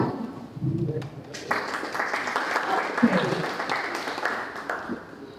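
An audience at a public talk on artificial intelligence gives brief applause, soft and somewhat distant claps that rise after a moment and carry on steadily under a speaking voice.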